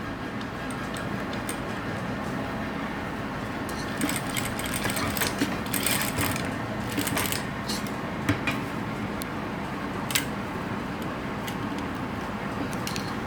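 A sewing machine stitches a hook and eye, fed slowly by hand, giving a faint, steady mechanical whir with scattered light ticks throughout.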